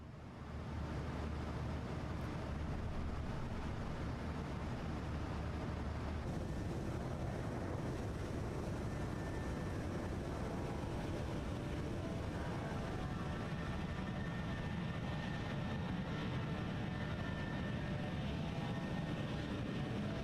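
Boeing 737-800 airliner just airborne in a flight simulator, a steady loud broadband roar of engines and airflow with a low hum, continuous throughout.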